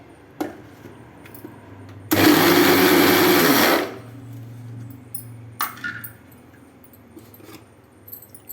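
A mixer grinder whirs loudly for about two seconds while grinding idli podi spice powder, then stops, with a few clinks and knocks before and after.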